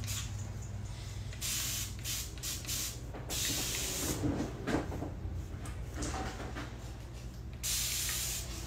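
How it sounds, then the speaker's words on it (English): Hairspray is sprayed onto a man's hair in repeated hissing bursts, some short and some long, close to the microphone. "you supposed to spray on my hair, not my face?"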